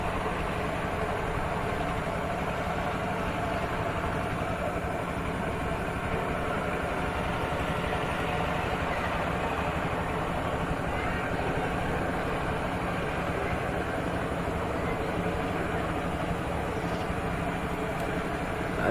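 A power tiller ploughs through muddy field soil, its engine holding a steady, throbbing drone that stays constant and fairly close throughout, with no talking over it.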